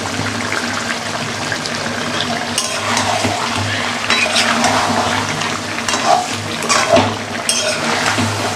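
Chicken pieces frying with spices for biryani, a steady close sizzle broken by intermittent stirring scrapes and splutters, with no talk over it.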